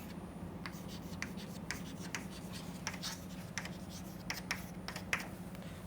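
Chalk or marker writing on a board during an engineering lecture on the pressure correction method, with a run of short scratchy strokes over steady room hum and no talk.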